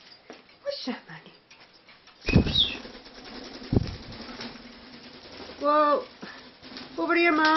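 A pet bird flaps its wings in short, loud bursts close by, separated by quieter stretches, and brief chirpy calls follow near the end.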